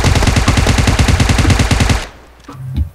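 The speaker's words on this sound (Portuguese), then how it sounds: "Opa, tiro, tiro, tiro." Rapid automatic gunfire from PUBG Mobile, loud sustained bursts for about two seconds, then it cuts off, leaving faint background sounds.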